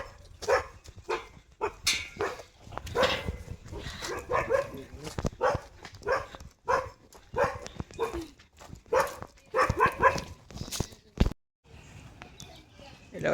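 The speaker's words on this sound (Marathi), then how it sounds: "घरात कुत्रा आहे, तुला माहिती आहे." A family's pet dog at a farmhouse barks in repeated bursts with yips and whimpers, fairly close, while people talk in between.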